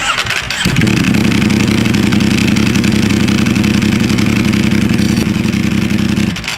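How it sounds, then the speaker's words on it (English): A Ducati V4 motorcycle fitted with an STM dry clutch starts up and settles into a loud, close, steady idle with a rough, clattering rattle running throughout. "An STM dry clutch Ducati"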